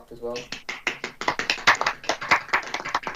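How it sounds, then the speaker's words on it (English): A few people applaud the speaker Kirk during a live community tech session about Azure and Terraform, a short run of close, distinct claps in uneven rhythm, with a voice briefly heard at the start. "I think a round of applause for Kirk as well."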